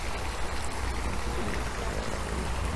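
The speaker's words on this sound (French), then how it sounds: "Donc voilà le deuxième bassin, avec une petite cascade naturelle, un petit jet d'eau." Water splashes steadily from a small garden pond waterfall and water jet, a continuous close trickling and pouring wash with no voices.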